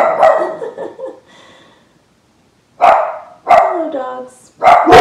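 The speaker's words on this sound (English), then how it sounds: "Those are my dogs." Pet dogs bark sharply and close by in a quiet room during a home yoga session, giving two barks, a pause, then a quick run of loud barks.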